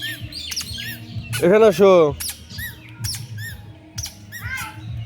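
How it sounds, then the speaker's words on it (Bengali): Pigeons call in short harmonic squawks, loudest in one burst near the middle, with small chirps scattered around it. A nearby voice speaks over the birds. "কবুতর কো, ওই যে কবুতর।"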